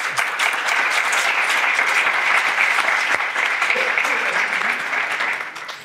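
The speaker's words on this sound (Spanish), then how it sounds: "Aplaudimos." A church presentation audience applauds, a steady, dense wash of clapping that holds evenly for several seconds before tapering off at the end.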